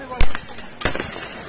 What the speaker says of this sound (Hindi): फायरिंग होते हुए ये पहाड़ों बैठे भाई फायरिंग कर रहे